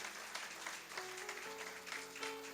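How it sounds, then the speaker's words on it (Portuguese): A church congregation at a family service claps together in a steady, fairly quiet patter, with sustained organ-like tones sounding underneath. "Aplauda o Senhor mais uma vez."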